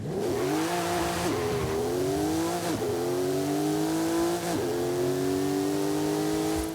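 A Porsche 911 Turbo S in Forza Horizon 5 revs hard through several rising gear pulls, each climb broken by a brief dip at the shift, loud and close with no talk.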